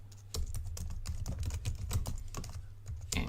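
Fast, steady typing on a computer keyboard while an email address is entered for a website signup, close clicking keystrokes over a low background hum with no speech.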